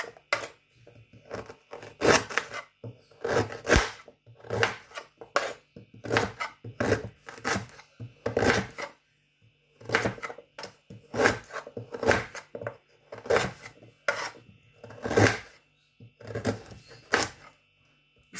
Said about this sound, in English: So this your ginger, you slice it like this.